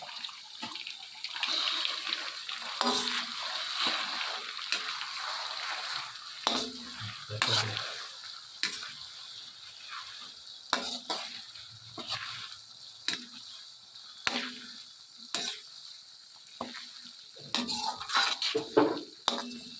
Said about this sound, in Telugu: ముందుగా అల్లం వెల్లుల్లి పేస్ట్ వేసుకుని పచ్చివాసన పోయేంత వరకు కూడా బాగా వేయించుకోవాలి